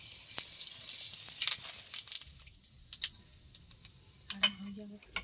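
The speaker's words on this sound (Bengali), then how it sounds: "মাছ ভাজার তেলে ফোড়নে দিয়ে দেবো 5 ফোড়ন," Five-spice panch phoron crackles in the leftover oil from frying sarputi fish, making a soft, steady sizzle. Scattered little ticks and pops come through it, all faint and close by.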